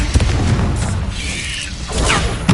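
Confringo explosion spell in Hogwarts Legacy, a loud booming blast followed by crackling debris and a second burst near the end, close and forceful.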